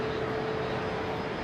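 A QantasLink Dash 8 Q400 departing a runway at Brisbane Airport gives off a steady, broad turboprop roar with a faint sustained tone, constant in level and fairly near throughout.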